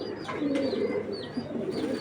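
Pigeons of foreign racing bloodlines coo steadily in a low, throaty murmur, close by and continuous, with no talking over them.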